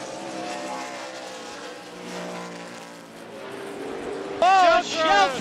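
ARCA Re/Max Series stock cars race around Cayuga Motorsports Park, engines droning past while a commentator talks, then a loud close pass of snarling, pitch-sweeping engines bursts in near the end.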